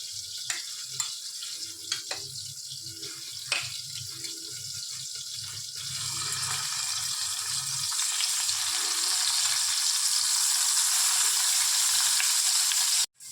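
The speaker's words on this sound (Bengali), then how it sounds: "তেলটা হালকা গরম হয়ে আসলে আমাদের ম্যারিনেট করা করলাটা এর মধ্যে ভেজে নেব।" Marinated bitter gourd drops into hot oil with a few soft clatters, then the sizzling swells into a loud, steady crackle that continues to the end.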